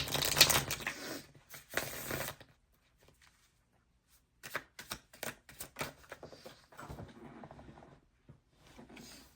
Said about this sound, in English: Let's pull some tarot cards to see more of like what's coming up for you guys.